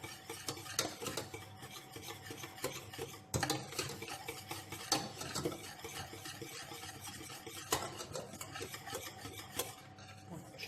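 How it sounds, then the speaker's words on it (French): Gelatine being stirred into a pan to melt it while making a vanilla mousse entremet: a steady scraping and swishing of a utensil against the pan runs throughout, with a few sharper clinks, fairly quiet and close with no talk. "Je mélange bien afin qu'elle soit bien fondue."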